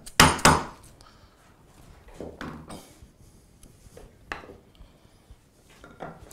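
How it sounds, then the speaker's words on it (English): A marking knife is tapped into a knife line to deepen it while hand-cutting a dovetail in wood: two loud, sharp knocks up front, then scattered lighter taps and small handling clatter nearby. "Now I'm not tapping too hard here, I'm just increasing the depth of the line, making the knife wall more prominent"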